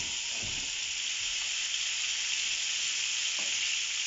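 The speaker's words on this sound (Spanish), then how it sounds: "En una sartén agregamos un poco de mantequilla, aceite de oliva, nuestros camarones deliciosos" Shrimp fry in butter and olive oil in a pan, giving a steady bright sizzle and hiss with a couple of soft stirring scrapes underneath.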